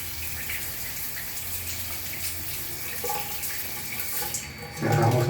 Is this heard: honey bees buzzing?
no